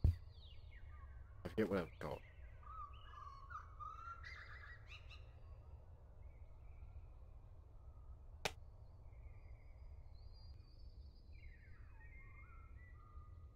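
Chirping birds in the Deltarune video game: a few scattered tweets and whistled calls over a quiet ambient bed, with sharp clicks near the start, while a person talks briefly early on.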